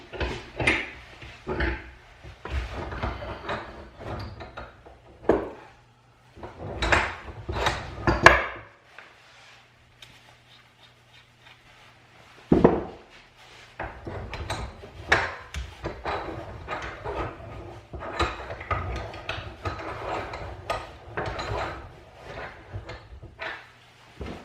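A brake line flaring tool is taken out of a bench vise and a different style is clamped in, with scattered metallic clanks, knocks and rattles of the tool and vise jaws between quieter pauses.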